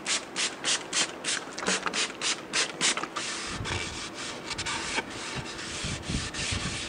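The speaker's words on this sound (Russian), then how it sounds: "щетки начинают больше наклоняться, и, соответственно, появляется еще не задействованная область наждачки" A flap brush sander with sandpaper strips works small wooden pieces, a fast rhythmic flapping and rasping at first that smooths into continuous loud abrasive rubbing.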